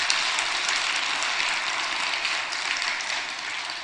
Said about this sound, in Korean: 뜨겁게 격려의 박수, 하나님께 영광의 박수